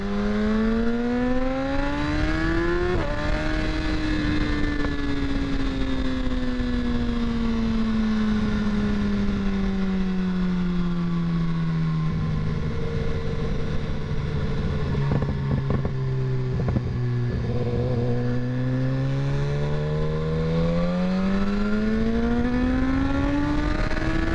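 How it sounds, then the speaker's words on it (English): A BMW S1000RR sport motorcycle being ridden gives a loud, continuous engine note heard up close, rising sharply in pitch early on, then falling slowly, climbing again and dipping before rising at the end, with no talking. "let's actually make it raw audio for you, so you guys can actually only hear the bike"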